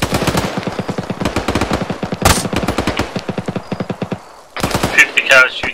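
Machine gun fire in the video game Arma 3, long rapid bursts of sharp, evenly spaced shots with a short pause, then a heavier, echoing burst of gunfire at the end.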